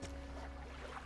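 Boat engine in the fishing video game Dredge, a faint steady low hum with a sustained tonal drone running evenly under a quiet background.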